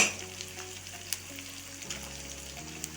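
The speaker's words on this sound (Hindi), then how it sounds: "और इसमें महीन कटा हुआ प्याज डाल देंगे।" Finely chopped onion fries in a pan with a quiet, steady sizzle, a few small clicks and taps from stirring scattered across a few seconds, and no talking.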